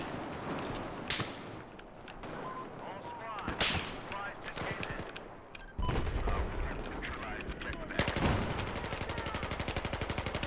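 Gunfire in Battlefield 4: sharp close shots and rattling bursts crack out irregularly, then a rapid machine-gun stream near the end, with a player talking between the shots.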